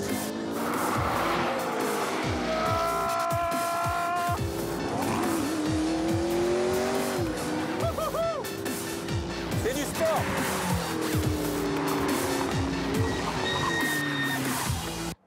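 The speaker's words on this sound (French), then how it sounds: "Mais c'est quoi ce bruit de frein là?" A McLaren 650S at speed on a race circuit, with squealing brake and pad noise and tire squeal over a loud, steady engine roar, while someone talks throughout.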